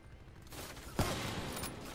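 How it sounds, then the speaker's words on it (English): Quiet gunfire from the video game Black Ops III: a muffled rattle of shots builds to a sharper burst midway, then continues as scattered low-level firing. "That guy's just firing bullets left, right, and center for no fucking reason."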